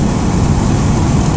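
A 1986 Camaro driving on a town road, a loud, steady low engine and road rumble heard from inside the car, continuous and smooth with no talk.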